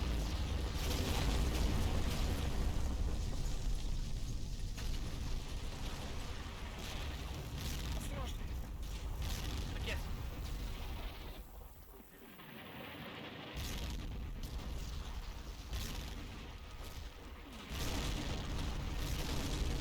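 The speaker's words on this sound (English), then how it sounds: "My spotters look on as the barrage starts to fall on the western slopes of Snakehead Ridge." Artillery barrage falling on the western slopes of Snakehead Ridge at Monte Cassino in the Combat Mission war game, a continuous loud rumble of explosions with a brief lull midway, faint speech mixed in.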